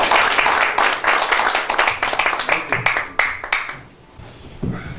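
Audience applause welcoming a speaker onto the stage at a Korean lecture event, a dense burst of many hands clapping that thins out and fades toward the end.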